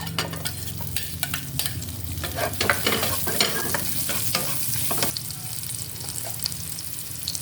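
Onion sautéing in oil for adobong sitaw: a loud, close, continuous sizzle with crackling spatter and scraping stirs, intensest in the first five seconds and then settling to a steadier hiss, no voices.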